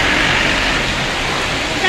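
Heavy rain and runoff water rushing down a main road in Kurseong, Darjeeling during a hailstorm: a loud, dense, continuous wash of broadband hiss with no breaks.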